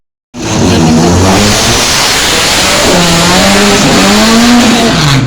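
A Ferrari race car on a hill climb course, its engine loud and near, revving continuously with rising and falling pitch as it accelerates through gear changes.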